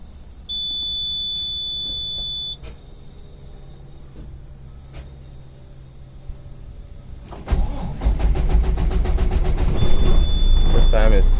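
A Freightliner Century truck engine cranks under the starter and catches, with a steady buzzer tone sounding and then fading; the rumble swells and holds close and loud once the engine runs.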